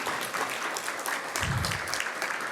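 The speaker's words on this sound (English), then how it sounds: "A nice round of applause for her," A conference audience gives a volunteer a round of applause at opening remarks, a full, steady wash of many hands clapping throughout with a brief low thump partway through.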